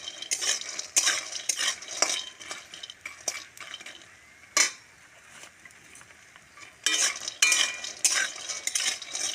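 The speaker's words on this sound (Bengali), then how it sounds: "এই যে লাল লাল করে ভাজা হয়ে গেছে বড়িগুলো।" Bori, small lentil dumplings, frying in oil in a kadai, heard as clinks and scraping stirs in bursts with a faint sizzle beneath, with quieter gaps between stirring spells.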